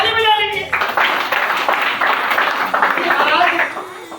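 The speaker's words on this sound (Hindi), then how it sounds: "ताली बजा लीजिए।" An audience at a Hindi-language seminar breaks into dense, sustained applause that swells after a brief spoken phrase and continues steadily for several seconds before tapering off.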